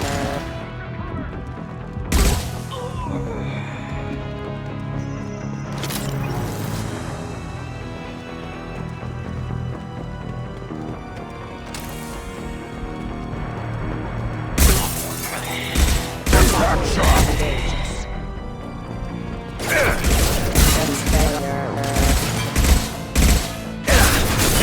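Gunfire and crashing impacts erupt during a firefight in Mass Effect 2, arriving first as scattered sharp bursts and then as dense, loud volleys in the latter half, with game dialogue and music running underneath.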